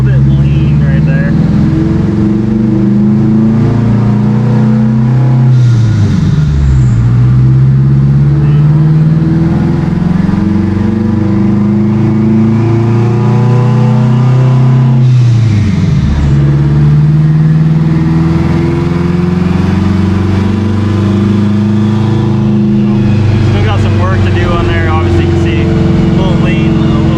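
Engine of an all-wheel-drive Honda Civic revving and pulling hard on takeoff, a loud, steady roar that climbs in pitch, dips at two gear changes and climbs again, close and continuous for the whole stretch.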